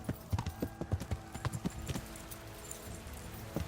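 Horse hooves clatter in a quick irregular gallop in the medieval game Kingdom Come: Deliverance, a burst of hard thuds over the first two seconds that thins into faint ambience.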